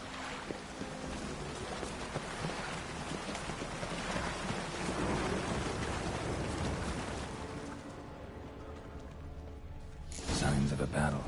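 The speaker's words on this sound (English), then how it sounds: "Storm, damn it." Stormy weather in The Witcher 3 on Skellige, with steady rain noise and low rumbling thunder filling the scene, fading toward the end before a brief louder burst; someone speaks over it.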